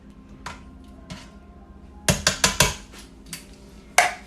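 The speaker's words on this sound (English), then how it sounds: "give them a good stir" A spoon clanks against a soup pot while stirring meatballs for Italian wedding soup: a few scattered knocks, then a quick cluster of four loud metallic clatters and one more sharp hit near the end, close and without talk.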